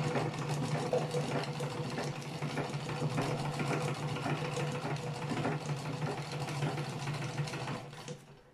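A manual, non-electric sewing machine stitches steadily, giving a continuous close mechanical whir with a low hum and rapid ticking. It runs unbroken for several seconds, then trails off at the end, with no talking.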